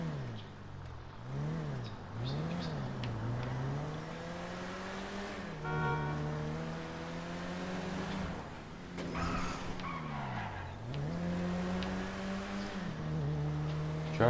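A car driven in a video game during a heist setup, its engine humming steadily with repeated rising and falling revs as it accelerates and shifts, loud and close throughout with no talking.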